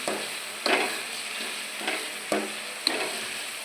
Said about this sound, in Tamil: தக்காளியும் போட்டு நல்லா வதக்கணும்.